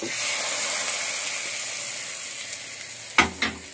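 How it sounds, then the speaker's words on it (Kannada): Hot oil poured over an instant raw mango pickle mix gives a loud, continuous sizzling hiss close up. A couple of sharp metallic clanks from a utensil break in near the end. "ಆ ಬಿಸಿ ಬಿಸಿ ಎಣ್ಣೆನೆ ಹಾಕ್ಬೇಕು, ಆರದ ಮೇಲೆ ಹಾಕ್ಬಾರ್ದು, ಬಿಸಿ ಇರೋವಾಗೆ ಹಾಕ್ಬೇಕು"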